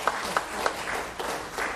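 Studio audience on a talk show breaks into applause, a sustained spread of clapping hands with several crisp individual claps early on, steady and fairly loud to the end.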